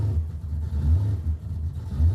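A Chevrolet Impala drag car's engine rumbles and blips at low revs while staging at the strip, with deep, uneven throttle surges heard from a moderate distance.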